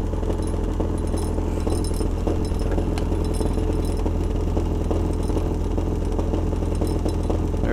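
A Newman motor, slowed down slightly, runs with a steady continuous hum and buzz that holds at an even level throughout, with no pauses or voices.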